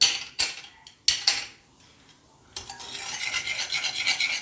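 Flour, yeast and sugar being mixed in a bowl with warm water for whole wheat toast bread, heard as a couple of sharp utensil clinks followed by a steady close scraping and rubbing against the bowl, with no talking.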